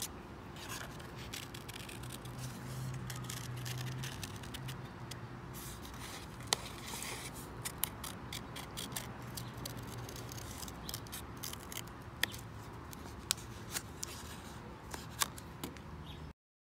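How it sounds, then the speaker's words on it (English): Scissors snipping a drawn flower shape out of a plain square note card, a steady run of small close crisp cuts and paper rustles, quiet and alone. "Then we cut out our flower."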